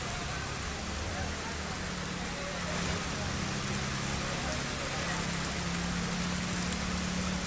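Rain falling on city streets, a steady dense hiss of rainfall with faint traffic rumble underneath, continuous and even throughout.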